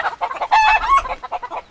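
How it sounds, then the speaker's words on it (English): Chickens clucking from a tree in Santa Ana, Costa Rica, a close series of short, uneven clucks and squawks in bursts, with one louder call in the middle and no talk. "Oh, there's chickens in this tree."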